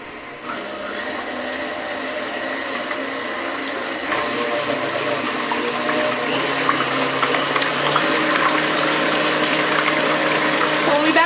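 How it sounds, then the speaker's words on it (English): An electric mixer running on high to mix lemon icebox pie filling, a continuous loud whirring hum that grows slightly louder partway through. "mix on high for about 10 minutes before we pop this in the oven"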